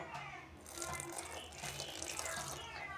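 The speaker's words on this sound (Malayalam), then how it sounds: "അതിലേക്ക് കുറച്ച് വെള്ളം ഒഴിക്കുക." Water is poured from a tap into salted dough for kappa bonda, a faint trickling, splashing flow with light rattles, fairly quiet and close.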